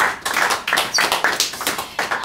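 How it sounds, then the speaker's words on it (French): Applause from a small audience at an improv comedy show at a Paris improv festival, a sparse, uneven clatter of hand claps lasting a couple of seconds with no talking. "on peut les applaudir"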